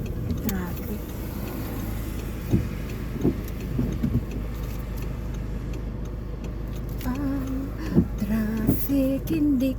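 Road traffic passes in the Philippines as a broad, steady rumble of car engines, with faint ticks and a few clearer passing-vehicle tones standing out; there is no talk over it.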